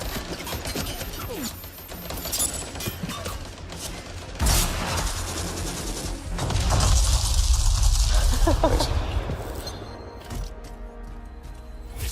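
Rapid gunfire and explosive bursts from a sci-fi shooter game, dense crackling volleys with heavier booms, loud and continuous throughout, with a voice speaking in places.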